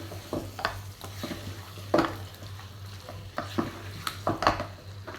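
Chicken kurma with raw chicken pieces is stirred in a pan over a sizzling base, with repeated spoon scrapes and knocks against the pan at an irregular pace, close and clear.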